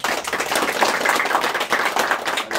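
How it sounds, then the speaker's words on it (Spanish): A short burst of applause from a small crowd for the owners of a newly built house, brisk dense clapping that carries on steadily for a couple of seconds with no talk. "Le damos un aplauso también a los dueños."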